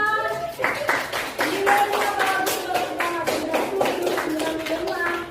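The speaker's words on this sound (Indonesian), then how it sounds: "tepuk tangan untuk kita semuanya" A group claps along in a classroom setting, sharp rhythmic hand claps in quick succession, with children's voices and chatter running underneath.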